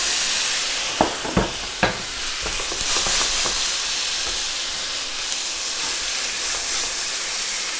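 Tomatoes and garlic fry in hot oil in a pan, a loud, steady sizzle with a few sharp pops and clatters near the start, continuing alone without talk.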